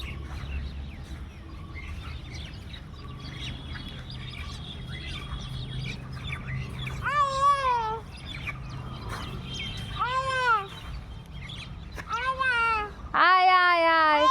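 A person imitates a crow's caw with their mouth, giving several short, nasal, rising calls in bursts, the last one loud and close, over a murmur of background voices.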